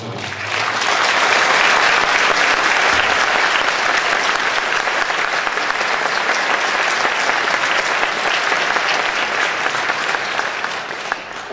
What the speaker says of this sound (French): On transmettrai vos chaleureux applaudissements à ses parents